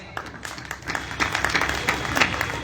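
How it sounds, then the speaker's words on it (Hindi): A crowd at an all-India poetry gathering in Chhatarpur's grain market applauds loudly to welcome guests, with steady dense clapping throughout. "एक बार जोरदार तालियों से स्वागत करें।"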